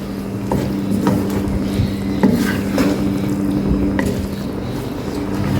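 Boiled rice mixed with masala in a pot for BBQ chicken tikka biryani, a continuous scraping and stirring with occasional spoon knocks against the metal, close and steady with no talk.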